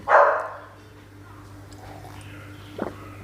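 Puppy giving a short yelping bark near the start, followed by a quiet background hum and a faint second yip later, heard in a busy outdoor home setting during a meal.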